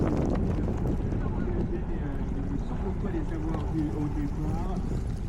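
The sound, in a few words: strong wind blowing at a cyclo-cross race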